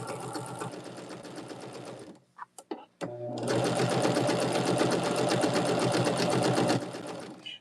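A sewing machine stitches quilt fabric in fast, even, whirring pulses, pausing briefly midway for a few clicks and taps as the fabric is repositioned, then running steadily again, loud and close.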